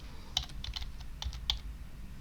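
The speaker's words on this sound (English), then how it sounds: "I'll type in the title of the video" Typing on a computer keyboard: a short run of light, quick key clicks at an irregular pace, close but soft, over a faint steady background hum.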